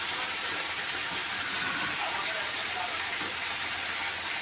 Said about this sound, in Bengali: মশলাটা আমি কষিয়ে নেবো যতক্ষণ না তেল ছেড়ে দেয়